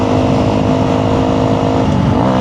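A Honda CRF300L motorcycle with a Yoshimura full exhaust accelerating hard after a downshift, its engine note loud, close and continuous, rising slightly in pitch near the end.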